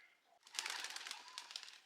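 Domestic pigeons at a loft give soft, close cooing and rustling with a few fluttery bursts. The sound is faint and goes on without a pause, with no talk.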